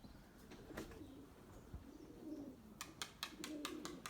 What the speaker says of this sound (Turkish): Bakın kızgınlıktan kanat sesini duyuyor musunuz kuşun?